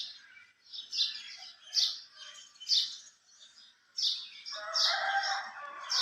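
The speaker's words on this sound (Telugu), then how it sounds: "ఒకసారి మా పక్షులు హడావిడి వినేయండి" Birds chirp and tweet in repeated bright bursts, with a rooster-like call joining near the end, fairly close and without any talking.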